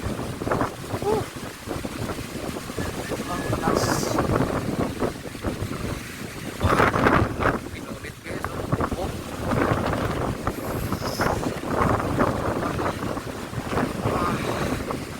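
Strong wind buffets the microphone in heavy, continuous gusts, with a voice speaking intermittently over the roar.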